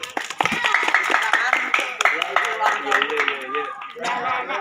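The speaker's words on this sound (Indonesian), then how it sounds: "Sekali lagi tepuk tangan." An audience at a school Independence Day celebration claps in a brisk, uneven patter while voices and chatter carry through over the clapping.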